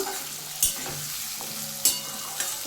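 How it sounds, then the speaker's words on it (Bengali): Potatoes frying in oil with turmeric and salt, being stirred in the pan: a soft, steady sizzle broken by a few sharp spatula scrapes and clinks. "আর সামান্য একটু হলুদ দেবো দিয়ে আমি নাড়িয়ে নাড়িয়ে দিচ্ছি ভালো করে ভাজার জন্য"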